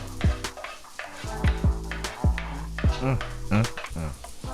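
Garlic goes into a hot pan with butternut squash for a meatless dish, giving a steady sizzle broken by sharp scraping stirs and clinks of utensil on pan, close and fairly loud.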